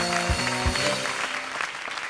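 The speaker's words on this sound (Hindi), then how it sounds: "तालियों से स्वागत कीजिए" A comedy show audience applauds to welcome the judges, a loud, continuous burst of clapping over sustained background music, with no one speaking.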